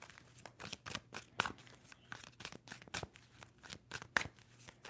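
A tarot deck being shuffled, a steady run of sharp riffling and flicking bursts over several seconds, close and clear with no talking.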